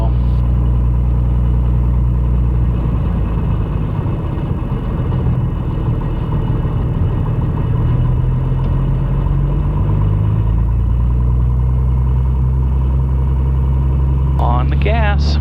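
Piper Comanche 250 engine heard from inside the cabin as power comes up for takeoff, a loud steady drone that builds in pitch, with voices talking over it.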